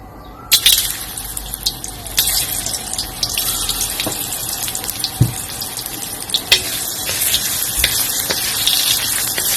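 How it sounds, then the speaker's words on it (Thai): Shiitake mushrooms are stir-fried in a pan for a vegetarian glass-noodle dish, giving a loud, continuous hiss and crackle with repeated scrapes and knocks of the spatula. "ผัดให้เห็ดหอมละหอมดีนะคะ"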